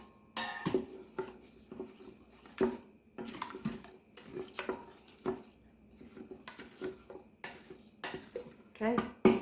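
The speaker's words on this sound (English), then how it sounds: "We're going to give this a stir." Rice pudding being stirred inside an Instant Pot, with a spoon scraping and clinking against the metal inner pot in irregular bursts, close and moderately loud, with short pauses between strokes.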